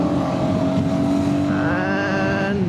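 A motorcycle, named as a Gorilla Apex or Himalayan, accelerates hard along an open road as the engine climbs steadily in pitch over a wind-blown rumble. It sounds close and stays loud throughout, and no one talks.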